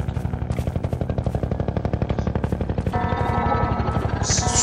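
A combat helicopter attacks with sustained rapid machine-gun fire in the Half-Life 2: Episode Two video game, loud and close, the rattling bursts running continuously over a droning rotor.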